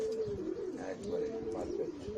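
Pigeons coo in soft rolling phrases close by, a repeated low throaty burble of several birds among baby pigeons kept for sale on a rooftop, with a little faint background noise.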